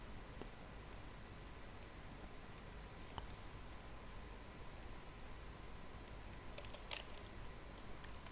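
Rapid keystrokes on a computer keyboard enter short drafting shortcuts in Revit, a brisk run of light, close clicks and taps with a few sharper strikes, over a faint hiss and no talking.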